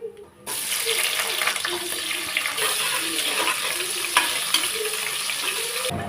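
About ten chopped shallots and whole spices fry in a pressure cooker for mutton curry, a loud steady sizzle starting abruptly, with stirring scrapes throughout.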